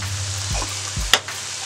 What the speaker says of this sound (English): So the onions and peppers are sauteing up nicely.